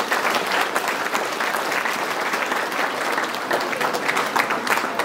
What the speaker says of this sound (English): let's all give a round of applause for our teachers